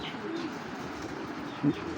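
A pair of Kaldom pigeons, a spring-necked male with a Shapla tail and a red-tailed female, giving soft low coos, one brief louder coo near the end over faint background hiss.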